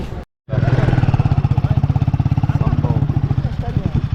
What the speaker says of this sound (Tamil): வண்டி வந்துடுச்சு